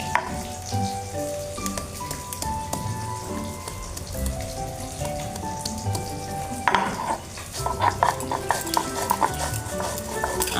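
Fish frying in oil in a pan over a clay stove, a dense continuous crackling sizzle up close with occasional spatter bursts and stirring clatter, no talking.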